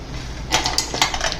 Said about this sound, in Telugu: ఇప్పుడు మసాలా ప్రిపేర్ చేసుకొని మిక్సీ జార్ తీసుకుంటున్నాను